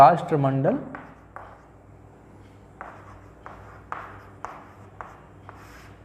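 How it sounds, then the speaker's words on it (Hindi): Marker or chalk strokes scratch across a board as Hindi words are written, a series of short, faint scrapes spaced apart after someone briefly speaks at the start. "इसको मैं अगर मैं हिंदी में लिखना चाहूँ तो मैं लिखता हूँ"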